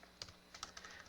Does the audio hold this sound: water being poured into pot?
no